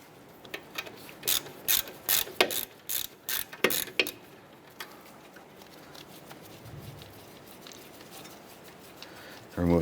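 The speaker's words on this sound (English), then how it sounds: "Using a 12mm socket, go ahead and remove our flex line bolt for the bracket." A ratchet turning a 12mm socket to remove the brake flex line bracket bolt on a 2008-2012 Honda Accord front hub, giving a burst of clicking ratchet strokes up close in a quiet garage before falling silent.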